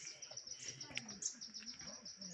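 Birds call faintly in a rhododendron forest at Barsey Rhododendron Sanctuary in Sikkim: scattered short chirps over a thin, steady high insect-like hum, distant and soft.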